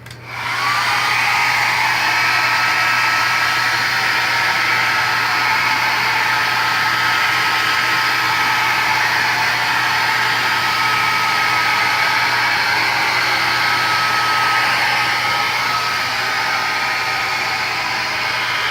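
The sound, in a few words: hair dryer drying a K&N air filter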